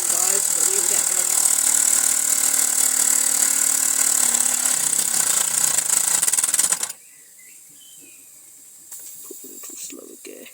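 A Mamod SW1 model steam engine running after minor repairs, a steady close hiss with rapid chuffing and mechanical clatter that cuts off abruptly, leaving quieter fiddling noises.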